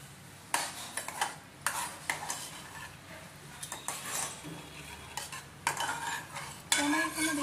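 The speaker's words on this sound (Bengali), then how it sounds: "সব আমি একসাথে দিয়ে জল দিয়ে ভালো করে ডালটা ঘেঁটে নেব" Tuvar dal mixed with coriander, turmeric, chili, cumin powder, garam masala and water, stirred with a spoon in a pot, giving repeated scraping and clinking strokes in an irregular rhythm, close and clear, with no talking.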